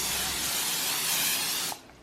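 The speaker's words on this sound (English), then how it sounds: "go ahead and spray the muffin pan" Cooking spray sprayed onto a muffin pan, one close, steady hiss lasting under two seconds and then cutting off abruptly, with no talking.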